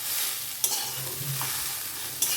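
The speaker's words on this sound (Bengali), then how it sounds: "সোয়া সস দিয়ে দিলাম। এবার এইভাবে আমি নাড়িয়ে নেব।" A spatula stirs masala chowmein with soy sauce in a hot pan, with a steady sizzle of frying and a couple of sharp scrapes against the metal.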